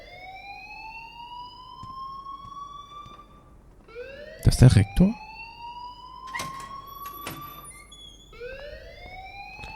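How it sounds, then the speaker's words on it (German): A school alarm in the video game Life is Strange sounds as repeated rising sweeps that swoop upward and hold, cycling steadily through the clip, with people talking over it and a couple of loud bursts midway. "please turn off that alarm"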